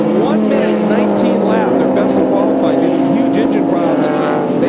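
A Dodge Viper race car competes in a Grand-Am race, its engine roaring loud and steady with shifting pitch as it passes, while a commentator talks over the track noise throughout.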